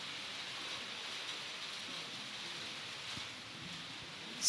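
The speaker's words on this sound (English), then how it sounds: "Rain started, the blessing rain." Steady rain falls outdoors, a soft continuous hiss with no distinct drops, fairly faint and even throughout, ending in a brief louder burst.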